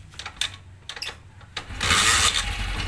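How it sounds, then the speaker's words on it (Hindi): A motorcycle engine starting: a few short cranking bursts, then it catches and settles into a steady idle that runs to the end, close by, no talk. "उसके बाद मोटरसाइकिल को स्टार्ट करते हैं।"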